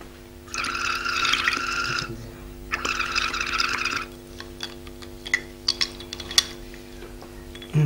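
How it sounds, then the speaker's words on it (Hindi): Breath blown through a tube into lime water in a classroom chemistry demonstration: two bursts of steady bubbling, each lasting about a second and a half, followed by scattered faint clinks and small splashes. "इसको फूकते रहना पड़ता है, थोड़ी देर फूकना पड़ेगा"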